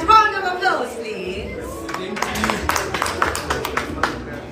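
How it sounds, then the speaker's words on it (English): Concert audience begins clapping after a brief stretch of voices, the applause building into steady scattered claps and crowd noise that fill the rest of the moment. "Round of applause, please."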